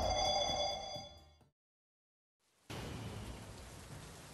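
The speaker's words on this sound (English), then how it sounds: "Great, why does it have to be raining?" Rain falls in a dense, steady hiss that fades out into complete silence, then returns abruptly at full strength after a short gap, with a faint tonal hum early on.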